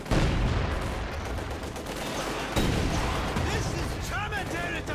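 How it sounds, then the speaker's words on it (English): Rocket artillery in a Company of Heroes 2 match, a dense barrage of loud launches and explosions rumbling continuously with sharp bursts, heavy battlefield noise and no clear talk. "More rockets going off"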